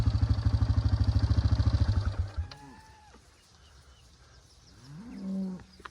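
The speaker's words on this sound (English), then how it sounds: "Cows coming in." Dairy cows come in on a farm. A loud, rhythmic engine chug opens the clip, then stops, and several cows low and moo nearby, one after another, with one long moo near the end.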